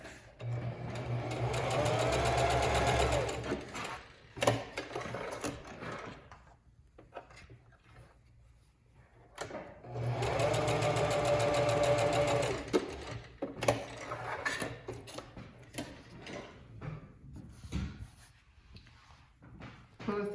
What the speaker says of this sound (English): I'm just going to stitch across the bottom of the ear to hold it in place